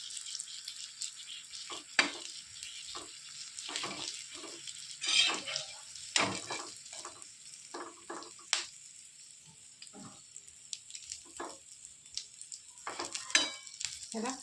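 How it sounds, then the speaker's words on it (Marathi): Green chillies fry with sesame seeds in a pan, a steady bright sizzle broken by irregular scraping and clinking as a spoon stirs through them, close and clear with no talking. "हे बघा परत एकदा आपण याला हलवून घेणार आहोत"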